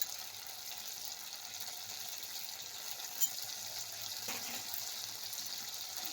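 Green chilli and ginger paste fries in a pan with salt and turmeric, giving a soft, continuous sizzle and hiss that stays even throughout, faint and close, with a single light tap midway.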